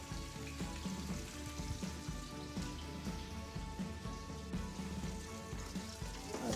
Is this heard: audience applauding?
no